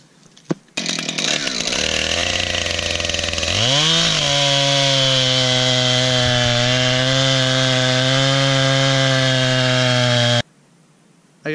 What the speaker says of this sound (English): it's a bitchin' chainsaw